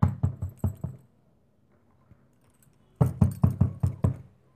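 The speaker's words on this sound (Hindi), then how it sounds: "ज़ोर ज़ोर से उस दरवाज़ा को खटखटाने लगा" Two bursts of firm knocking on a wooden door, about five raps each, separated by a short quiet pause; close and loud.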